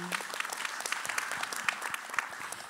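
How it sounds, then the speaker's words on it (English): Audience at a jazz panel discussion breaks into applause, a dense patter of many hands clapping steadily at moderate volume for a few seconds with no voices on top. "I think we can all clap to that."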